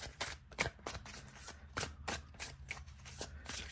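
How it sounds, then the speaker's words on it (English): Quick, crisp riffling of a tarot card deck being shuffled close by, repeated flutters and soft slaps in a steady rhythm. "Let's shuffle it up. I've been dying to shuffle this."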